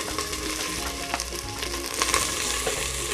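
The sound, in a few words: onions frying in coconut oil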